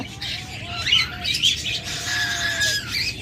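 A pair of cobalt mask budgerigars squawk and chirp continuously, close and fairly loud, with high scratchy calls layered over low background rumble.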